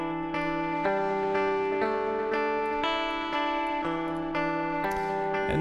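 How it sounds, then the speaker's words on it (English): Distortion applied to a delay plugin in Cubase 10.5 colours a sustained, harmonically rich synth line, with repeated note attacks about once a second and echoing tails, loud and alone. "Let's add some distortion."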